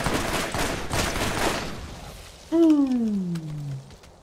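In Borderlands, a rocket launcher fires with a few heavy, loud blasts up front, then a whistling descending tone trails off as the rocket flies away; no talking.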